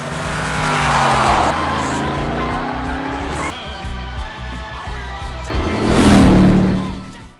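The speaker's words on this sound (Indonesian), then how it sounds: "Driver menjalankan mobil untuk menuju suatu tempat." A car drives off in an action film. The engine roars loudly and tires squeal and skid, then the sound swells to a louder peak near the end before it cuts off.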